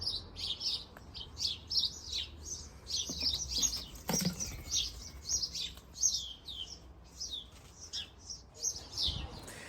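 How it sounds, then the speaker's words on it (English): A released young starling chirps and calls repeatedly in bright, busy bursts throughout, with a brief flutter of wings as it flies from a garden water butt into a nearby tree, outdoors with steady background ambience. "the starling flew from the top of the water butt into the neighbour's tree"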